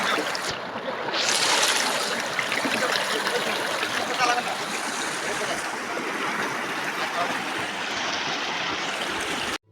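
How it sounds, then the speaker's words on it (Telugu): A forest stream at Maredumilli rushes steadily, a loud continuous wash of flowing water close by, with a few faint voices in the background. "just listen the sound of that water flow"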